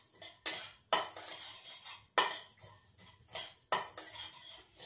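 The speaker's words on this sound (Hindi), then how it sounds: "उसको मैं थोड़ा से भूनूंगी" A small spoon stirs spices roasting dry in a pan for sour, sweet and spicy amla pickle, clinking and scraping against the metal in repeated strokes about every second, close and fairly loud, with no talking.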